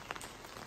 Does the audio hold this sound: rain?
yes